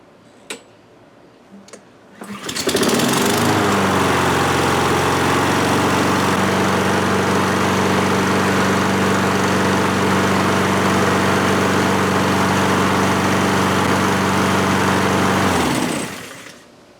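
A Honda lawn mower engine starts after a couple of clicks, then runs loud and steady with a constant droning hum outdoors before shutting off near the end.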